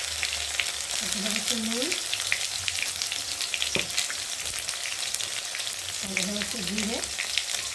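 Spices sizzle and fry steadily in hot oil in a pan while someone cooks a home curry, a continuous close crackle running the whole time, with someone speaking briefly over it.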